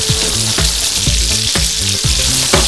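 Oil hitting a very hot pan for a Southern Indian okra masala, giving a loud, close sizzle with a periodic rhythmic knocking or clacking roughly every half second throughout.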